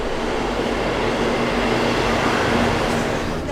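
A train runs on the line at Newton St Cyres station in Devon, giving a steady, close rumbling roar with broadband rail noise and no pauses.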